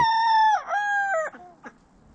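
A rooster crows nearby in a large chicken coop, one loud multi-part crow with falling and rising pitch, followed by a short softer cluck.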